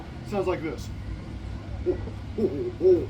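A voice imitates a great horned owl, giving a few low, soft hoots spaced out after a short spoken phrase, close and fairly quiet.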